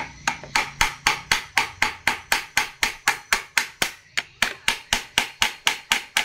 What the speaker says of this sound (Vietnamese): Con gõ mạnh mạnh vô con ốc bô đại đi